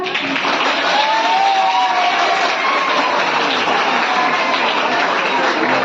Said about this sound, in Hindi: अरे थोड़ा ताली तो हो जाए